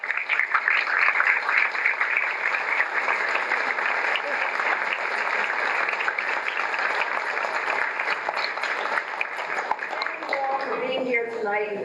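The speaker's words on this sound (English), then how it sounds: "I want everyone to applaud." Steady audience applause at an HR networking evening, continuous clapping throughout at moderate level, with a voice starting to speak near the end.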